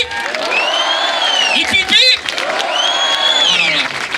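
A crowd at the Tour Alsace 2025 cycling race applauds and cheers loudly and continuously, with shrill whistling or whooping tones rising and falling over the clapping.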